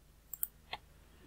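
Ctrl+S pressed on a computer keyboard, two quick faint clicks followed by a third, quiet and close with no voices.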